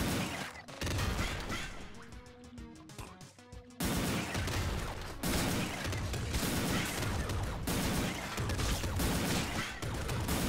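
Rocket weapon in the roguelike shooter Nuclear Throne fires in dense, loud blasts and explosive crashes, with rapid game sound effects layered throughout and no talk.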